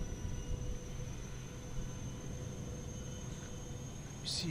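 Steady broadband roar of a Fenix A321 airliner's engines spooling up in Microsoft Flight Simulator, a continuous moderate whoosh with a faint high whine that holds throughout.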